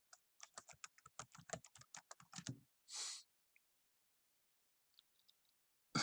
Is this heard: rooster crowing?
no